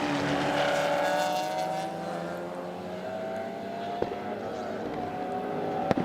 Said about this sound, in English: Matt Cherry just monstering past every other car on the racetrack, putting the horsepower to good use from the CV8 Monaro